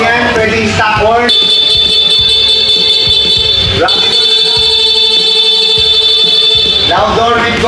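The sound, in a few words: horn on Honda ADV 160 scooter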